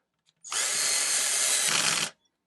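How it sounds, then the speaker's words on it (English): A compact Altocraft 12V cordless drill/driver runs in one steady two-second burst, driving a screw with the clutch set to slip, its motor whine shifting near the end as the clutch engages; close and loud, no talking. "you'll adjust that clutch so it just starts clicking when the screw is in all the way"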